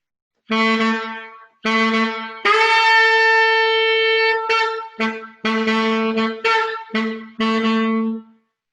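Saxophone sounding short separate notes with clear pauses between them, moving between a low G and a high G, with one longer sustained tone in the middle, played solo and close in a quiet room.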